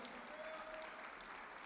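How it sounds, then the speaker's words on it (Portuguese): A church congregation at a Brazilian evangelical service claps together in a quiet, steady patter that runs for the whole short stretch, with no voices over it. "aplauda o Senhor com alegria"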